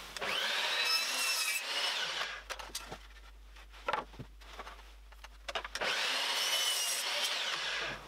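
A pallet wood board is hand-sawn at a 20 degree angle: two bursts of close, harsh rasping strokes with quieter scraping and knocks in between while the board is repositioned.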